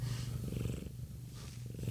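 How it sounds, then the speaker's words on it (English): A cat purring up close, a steady low rumbling purr that pulses evenly through the whole stretch with no talking over it. "I'm making this kitty purr."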